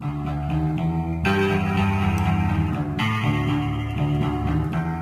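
A distorted electric-guitar-style tone built from a Street Fighter game voice sample runs through an amp with reverb, playing loud, sustained riffing chords that shift pitch partway through.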